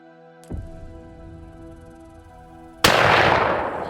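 Rifle shots during a bull hunt outdoors: two sharp, loud reports roughly two seconds apart, the second especially close and followed by a lingering rumble of echo, with a steady tonal hum in the background.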